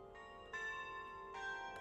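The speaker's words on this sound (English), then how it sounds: "The school has a bell tower called a carillon. It has 16 bells programmed to play different music." A school bell tower carillon of 16 bells rings out with clear, sustained tones and fresh strikes about every second, standing alone in a quiet, distant setting with no talk.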